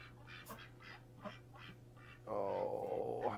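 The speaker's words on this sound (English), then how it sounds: "Look at the ducks everywhere." Several ducks quack in a rhythmic series of short calls, followed by a louder, sustained burst of quacking close by, over a steady low background hum.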